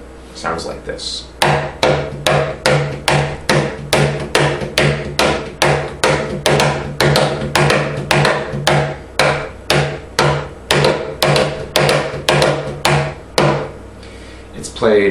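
High tones played on a cajon: a rapid, even stream of sharp, bright wooden slaps, about two per second, loud and close, continuing without pause and with no talking.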